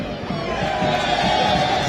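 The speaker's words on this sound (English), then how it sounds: "you know why the crowd is up and about tonight" A home crowd roars and cheers steadily at a Zimbabwe Premier League football match between Scotland FC and ZPC Kariba FC, a loud, continuous stadium din that swells slightly.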